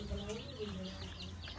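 Backyard hens cluck and chirp softly on a rural farm, a continuous low mix of fowl calls with faint background noise and voices underneath.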